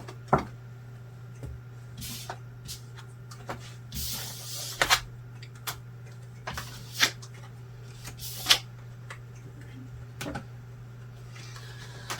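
A deck of tarot cards is shuffled and handled in soft, brushing riffles at a close distance. The faint bursts come irregularly over a steady low hum.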